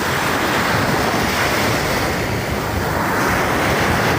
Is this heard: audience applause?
no